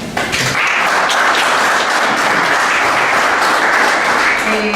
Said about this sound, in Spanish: Todos les pedimos un aplauso para él.